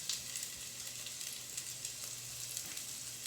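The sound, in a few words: fennel and garlic sizzling in the pan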